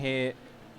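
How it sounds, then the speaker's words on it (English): Porsche GT car engine in the rFactor 2 racing game at Sepang, a short loud harmonic engine note that cuts off abruptly after about a third of a second. "could hear the Porsche struggling to get it turned in, reapplying the throttle."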